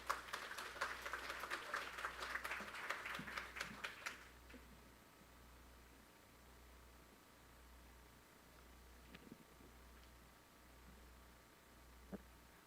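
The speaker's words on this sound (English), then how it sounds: "with some applause, please" A small audience at the Korea-LAC Trade and Innovation Forum gives a few seconds of sparse, distant clapping. The applause stops quickly, leaving a quiet room with only an occasional faint knock.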